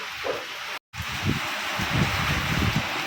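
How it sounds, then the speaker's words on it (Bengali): Rain drums steadily on the tin roof of a house while gusts of wind blow past, a continuous close patter and rush that drops out for a split second before resuming. "কি আওয়াজ টিনের উপরে, বৃষ্টিটা বেশি বোঝা যায় আমার টিনের ঘরে।"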